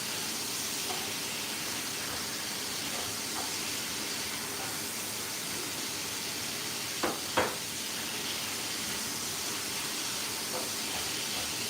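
Alcohol burning off in a hot pan of garlic gives a steady, quiet hiss and sizzle throughout, with two brief louder crackles partway through.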